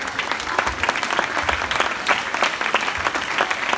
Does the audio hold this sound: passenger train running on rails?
no